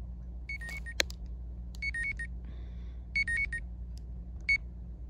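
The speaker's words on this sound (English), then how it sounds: "My alarm's going off." A phone or clock alarm goes off indoors with repeated bursts of bright electronic beeps in short groups over a steady low hum, and no one speaks.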